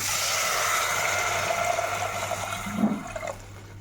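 Water poured into a pressure cooker pot while making masoor dal in a home kitchen, a steady broad rushing pour that lasts most of the stretch and fades toward the end.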